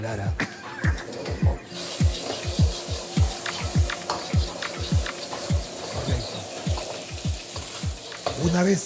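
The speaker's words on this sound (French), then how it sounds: "Une fois que la viande est bien saisie, on la retire parce qu'elle est déjà cuite aux 3/4." Beef for lomo saltado sears in a hot pan with a loud, continuous sizzle, and rhythmic scraping tosses recur about twice a second throughout, close and prominent.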